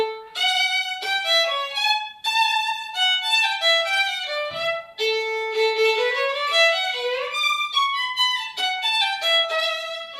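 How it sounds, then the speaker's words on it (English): A solo violin plays energetic, detached notes in short bursts with brief gaps, lively and close, with no talking. "So you jump the bow."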